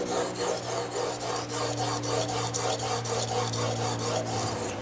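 An Anystone sharpener stone scrapes wetly and scratchily under a knife blade, with steady back-and-forth strokes in a quick, even rhythm, close and continuous, over a low steady hum.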